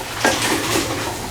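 A spoon scrapes and clinks through turmeric, coriander powder and salt in a pan, a short burst of stirring with light metallic contact, close and moderately loud, then a soft low sizzle underneath.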